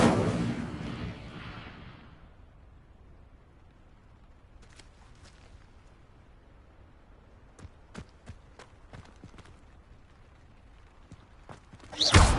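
The Incendio fire spell cast in Hogwarts Legacy opens with a loud roaring burst that fades over about two seconds. Faint ticks and taps follow, then another sharp burst hits at the very end.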